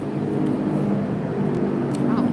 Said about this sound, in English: Oh, that's a loud helicopter.